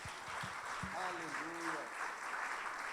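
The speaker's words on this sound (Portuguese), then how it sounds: "Aplauda Jesus." A church congregation applauds at an evening worship service, with steady, full clapping throughout while a voice calls out over it.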